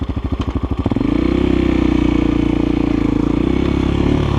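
A GEON X-Road 250 PRO motorcycle engine cranks with a rapid pulsing starter rhythm for about a second, then catches and settles into a loud, steady, close idle.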